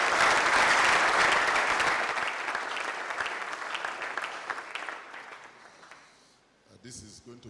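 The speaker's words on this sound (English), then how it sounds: "Please give them a round of applause." Audience applause for the organizers at THE AGENDA 2019 event in Nigeria, a loud crowd of clapping that gradually tapers off and dies out, followed by brief sounds at the end.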